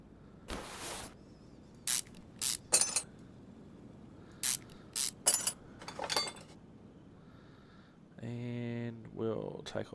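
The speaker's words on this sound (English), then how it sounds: "So we'll take off the brake caliper." A brake caliper is taken off a car in Car Mechanic Simulator: a string of short, sharp mechanical clicks and clunks spread across the clip, followed near the end by someone talking.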